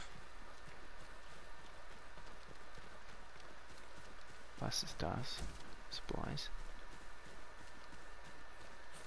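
A horse's hooves clip-clop in a steady rhythm in the video game Ghost of Tsushima, fairly quiet beneath someone talking, with a few louder sharper sounds mixed in partway through.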